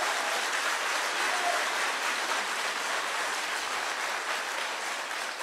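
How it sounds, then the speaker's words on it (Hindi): At a Congress party workers' meeting in Srinagar, a crowd gives warm, even applause to welcome a leader, a steady wash of clapping heard at moderate distance throughout. "जोरदार तालियों से इनका स्वागत है।"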